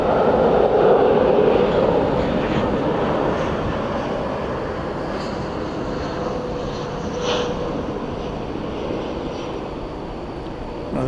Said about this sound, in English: Another Frontier flight.